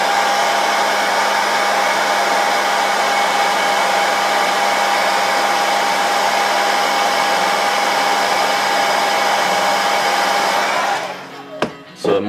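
Heat gun blowing steadily and loud on the body of a car being prepped for paint, a continuous whooshing roar that runs alone for about eleven seconds before cutting off with a few clicks.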